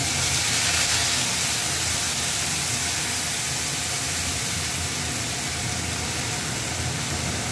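Ginger, garlic and onion paste sizzles in a hot pan, a steady, loud, even hiss that fills the whole stretch without pause or voices.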